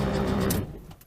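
A 1972 VW Beetle engine cranks over on the starter, a brief, steady churning burst close by that fades out after about half a second.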